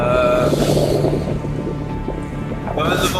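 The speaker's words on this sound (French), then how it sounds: "Il y a pas mal de vagues." Stormy open Pacific seen from a small sailboat, with heavy waves crashing and sloshing against the hull and wind roaring, loud and close, while a voice talks over it.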